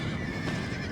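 A horse whinnies inside the Napoleon Total War battle game, amid a dense, steady wash of battlefield noise that stays loud from start to finish.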